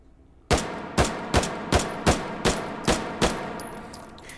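A Steyr M1912 pistol fires eight sharp, evenly spaced shots in the virtual-reality game Hot Dogs, Horseshoes and Hand Grenades, each loud crack trailing a short echo, with no talk.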